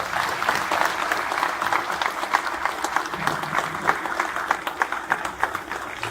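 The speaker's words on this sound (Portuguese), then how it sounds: "Eu peço uma salva de palmas." Audience applause at a formal ceremony in Mozambique honoring the President of the Republic, steady dense clapping from a crowd sustained throughout at moderate level.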